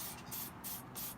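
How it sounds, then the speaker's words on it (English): A handheld spray bottle mists water onto seeds inside a ziplock bag, making three short, close hissing sprays in quick succession. "Stick in your sprayer and you're just going to spray mist in"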